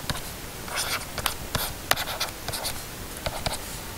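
Equations written out by hand with a pen or marker, a steady run of short close scratchy strokes and taps.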